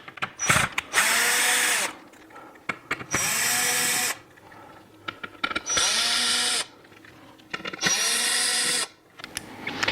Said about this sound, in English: Next thing we're going to do is remove the screws